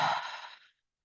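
A single long exhale through the mouth during a guided breathing exercise, close and soft, fading out after about half a second and followed by silence.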